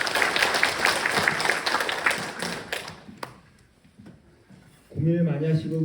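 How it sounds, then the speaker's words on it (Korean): A short burst of clapping from attendees at a Korean agricultural cooperative committee meeting fades out within about three seconds, followed by quiet and then a voice speaking. "좋은 말씀해 주신 조합장님께 다시 한번 한 박수"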